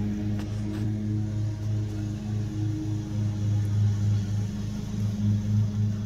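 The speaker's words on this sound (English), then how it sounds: "Eight inch, 700 watt max, scar in an enclosure." Skar 8-inch 700-watt subwoofer in an enclosure pumping steady, loud low bass with a pulsing rhythm throughout, a deep droning boom with no voices.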